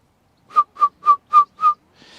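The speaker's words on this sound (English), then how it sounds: "That's as much as I can whistle." A person whistles five short, clear, evenly spaced notes of the same pitch, loud and close, followed by a faint breathy tail.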